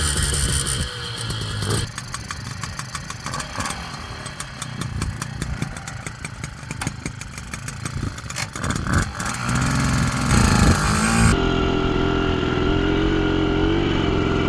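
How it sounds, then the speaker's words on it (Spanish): A Bultaco 155 motorcycle is kicked and cranked with repeated sputtering attempts, then catches and settles into a loud, close, steady idle with a buzzing two-stroke-like throb. "Realizando estas funciones, la moto, si todo está correcto, debe arrancar bien."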